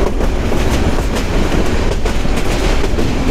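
A Mahua local commuter train rolls along through green forest, its loud, close rhythmic clickety-clack of wheels on rail joints running continuously with no talk.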